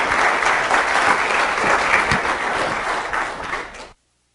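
A crowd at a NASA meeting applauds loudly and continuously for a few seconds before the clapping cuts off abruptly into silence.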